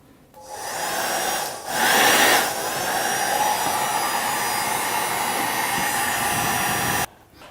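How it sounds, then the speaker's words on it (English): A hair dryer blows steadily for several seconds at close range, with a brief surge early on, then cuts off abruptly. "I'm going to stop a minute and use my hair dryer."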